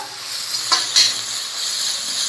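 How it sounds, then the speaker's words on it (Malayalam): Two long-sliced onions sautéing in oil for a Dragon Chicken dish, giving a steady, moderately loud sizzle with a couple of brief stirring scrapes, no voices. "ഇതുപോലെ നീളത്തിലരിഞ്ഞ ഒരു 2 സവാള നന്നായിട്ടൊന്ന് വഴറ്റിയെടുക്കാം."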